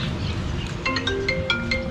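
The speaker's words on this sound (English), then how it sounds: "That's like an old school ringtone." An old-school phone ringtone goes off in a busy Texas-style diner in Thailand: a short, bright, repeating electronic melody rises over loud restaurant chatter and clatter.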